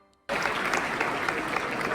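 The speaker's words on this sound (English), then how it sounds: "her husband Jared cheered loudly over the applause" After a brief hush, applause at a graduation ceremony bursts in abruptly and continues loud and steady, a thick crowd clatter of clapping hands.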